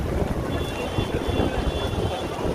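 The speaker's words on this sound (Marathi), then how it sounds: "वाऱ्याने सगळा पाऊस यायला लागलाय" Dense, roaring noise of heavy rain with gusting wind buffeting the microphone, loud and continuous throughout, blowing under a shed among a crowd at a temple in Shegaon.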